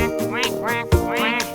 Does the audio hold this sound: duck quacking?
yes